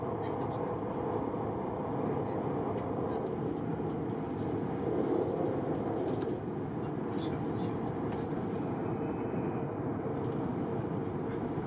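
Inside a Shinkansen bullet train's Gran Class cabin at a top speed of 320 km/h, a steady low rumble and airy hum hold level without letup.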